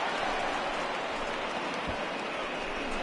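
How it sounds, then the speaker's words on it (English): Rain pouring steadily in an MLB The Show 20 baseball game, a dense, even hiss of falling drops throughout, no talking. "the conditions aren't ideal with the rain coming down"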